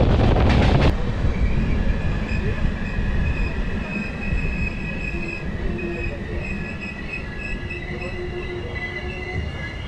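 Howrah Puri Superfast Express 12837 rolling along the line toward Puri, a steady loud rumble of wheels on track with faint metallic squeals, continuous and close, after a brief burst of noise at the start.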